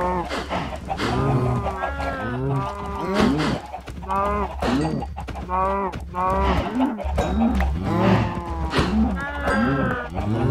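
Cows moo repeatedly in the video game Minecraft, a steady series of close, fairly loud lowing calls over a constant background hum, with a voice speaking at times.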